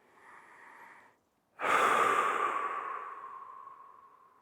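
Close, soft breathing: a brief inhale, a short pause, then a long, gentle sighing exhale that fades slowly, with no talking.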